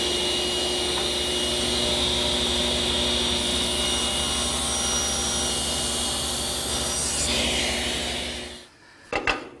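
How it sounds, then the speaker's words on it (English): A table saw blade, lowered for the second cut on an offset tenon, whines steadily and loudly for about eight seconds, then spins down into quiet with a couple of brief knocks at the end. "I've lowered the blade to make the second cut"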